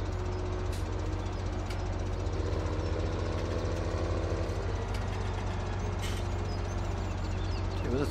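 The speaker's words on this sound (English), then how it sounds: "the sounds of this tractor" A video-game farm tractor idles in Farming Simulator 17, a steady low engine rumble with a throbbing mechanical knock running evenly throughout, with a few faint clicks on top.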